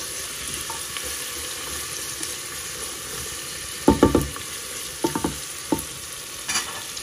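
Onion sautéing in a pan, a steady broadband sizzle running throughout, broken by a few sharp clatters of stirring in the second half.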